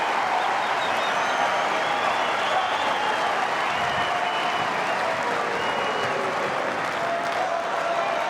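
Australian Open tennis crowd applauding during a second-round match, a broad steady roar of clapping and cheering from a large arena audience, loud and continuous throughout.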